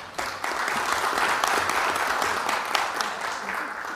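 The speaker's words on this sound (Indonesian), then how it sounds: "Luar biasa ya, anak muda cerdas kita kasih aplaus." An audience applauds a young speaker at a formal hearing, steady sustained clapping from many hands that fills the space for several seconds.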